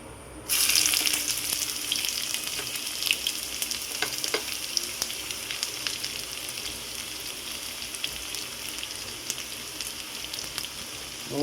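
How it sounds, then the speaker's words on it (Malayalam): Chopped shallots hit hot oil in which mustard seeds have already popped, a Kerala tempering for paal kappa. After a brief quiet start, a loud, dense sizzle crackles steadily throughout with scattered sharp pops, and no voices. "ഇനി നമുക്ക് അതിലേക്ക് ചുവന്നുള്ളി ഇട്ട് കൊടുക്കാം"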